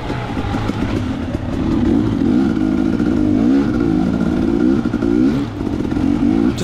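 Dirt bike engine racing through a rough, sandy section of a GP race, a loud close rasping roar that rises and falls with throttle changes and steady revving, no talk.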